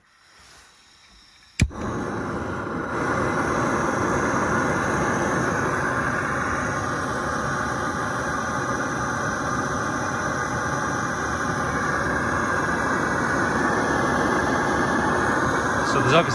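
A Firemaple Polaris gas stove burns steadily on a Jetboil Jetpower canister in a still van, a constant close roar starting abruptly after a brief quiet moment and holding evenly to the end.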